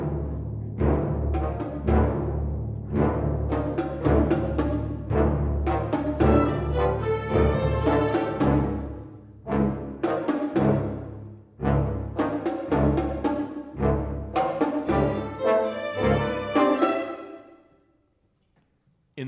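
Dark orchestral music sounds out in a series of heavy accented hits and short phrases, loud and dense, building through repeated surges before cutting off into a brief silence near the end.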